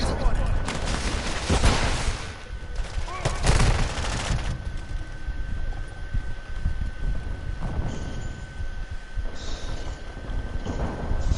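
Gunfire in the shooter game Modern Warfare 2, repeated sharp bursts of shots rising out of a noisy battlefield backdrop, fairly loud and close, with a voice talking over the action.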